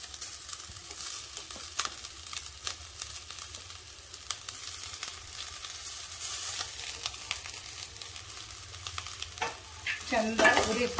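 Raw mango rice being stirred in a pan over a low flame, a steady scraping and mixing with faint sizzling throughout, growing a little louder near the end; no voices.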